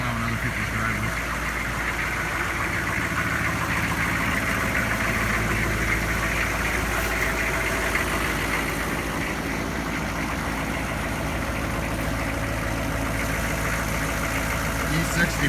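Diesel engine of a 1998 GMC K2500 pickup idling in December, a steady low rumble with a faint knocking texture that holds evenly throughout, with no talk over it.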